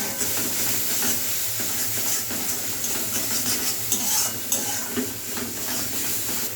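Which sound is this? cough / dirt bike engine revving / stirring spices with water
stirring spices with water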